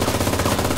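Loud, dense automatic gunfire rattles without pause in the World War II shooter Enlisted, a close, continuous burst with no talk.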